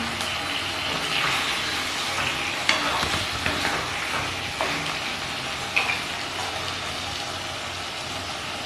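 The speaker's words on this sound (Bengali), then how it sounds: "সেদ্ধ করা লাউগুলো এই মশলার উপর দিয়ে দেবো।" Boiled bottle gourd pieces go into spiced masala in a pan while making lau shukto, giving a steady close sizzle and frying hiss with a few soft stirring clinks and scrapes, no voices.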